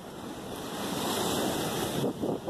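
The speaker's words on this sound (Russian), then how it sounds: "Да, волны сегодня огромные у нас." Big ocean waves roar and crash continuously, with strong wind buffeting the microphone and no talking.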